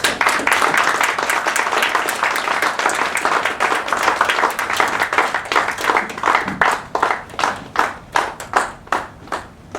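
Applause at an international academic awards ceremony for the Best Academic Dean recipient, starting as a dense crowd and thinning into a few distinct, rhythmic hand claps by the end.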